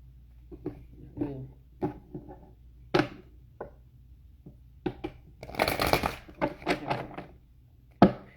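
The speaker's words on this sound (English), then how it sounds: "I want to shuffle it one more time." A deck of tarot cards is shuffled by hand in a series of soft riffles and taps, building to a denser flurry of card slaps before a final sharp knock, close up and with no one talking.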